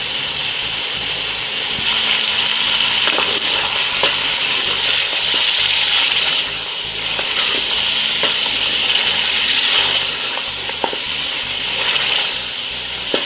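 Desi ghee sizzles loudly with mutton and kachnar in a hot pot, a continuous frying hiss broken by scraping stirs and small clinks, with no voices.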